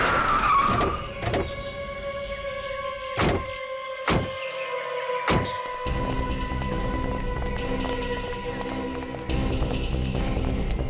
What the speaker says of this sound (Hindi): ठीक है, गाड़ी यहीं रोक।